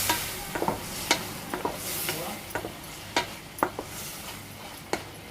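Leftover rice pulihora cooks in oil in a pan, a soft sizzle running beneath repeated scraping strokes of a spoon against the pan in a loose, uneven rhythm.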